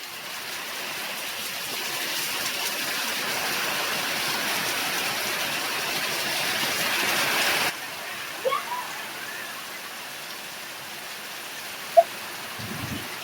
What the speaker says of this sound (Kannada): ನೋಡ್ರಿ ಮಳಿ ಆತೈತಿ ಗೈಸ್, ಮಳಿ ಭಾಳ ಹೆಚ್ಚಾಗೈತಿ